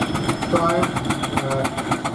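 A small 5-horsepower Burrell steam traction engine runs steadily nearby, hauling a log trolley at a vintage and country show, its mechanical chuff blended with background voices and crowd murmur throughout.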